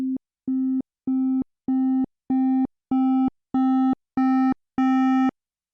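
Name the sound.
sine wave digitally clipping above 0 dB in Ableton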